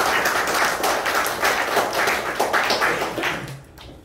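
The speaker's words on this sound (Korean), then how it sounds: "열심히 준비한 누수르자마 팀한테 다시 한번 박수 부탁드립니다" Audience applauding a team at a project presentation day for a web developer training course, a dense wash of clapping from a crowd that fades out toward the end.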